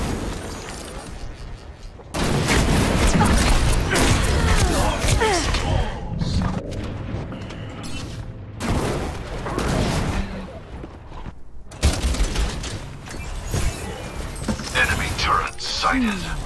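Torbjörn's turret in Overwatch fires repeated bursts of gunfire mixed with thuds and explosions across a busy battle, with game voice lines breaking in between volleys.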